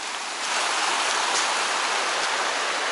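A river rushes beside a campsite in the Carpathian mountains in autumn, a dense, steady watery hiss close by with no voices.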